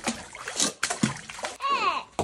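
Water splashes and sloshes in a cold plunge tub in a few quick bursts, with people talking, including a voice, around and between the splashes.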